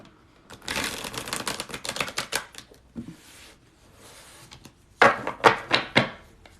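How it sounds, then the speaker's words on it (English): Tarot cards being reshuffled by hand, quick crisp riffling and slapping bursts in two clusters separated by a short pause, close and clear with no talking. "We're going to reshuffle."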